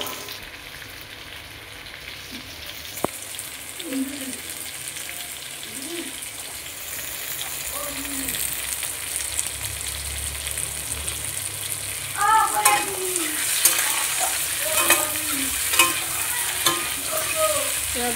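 Pointed gourd frying in a pan until reddish, stirred now and then: a steady hiss of oil with scraping and clattering stirs that grow busier and louder toward the end, close by and with no voices.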